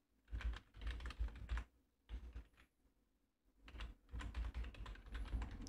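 Someone types an email address on a computer keyboard in quick, soft bursts of key clicks separated by brief pauses, close by and fairly quiet.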